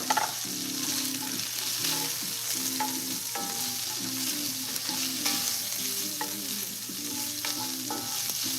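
Chopped, already cooked pork loin is stirred into a sizzling seafood paella in a pan, steady frying hiss under repeated rhythmic scraping and clinking of a utensil against the pan, no voices.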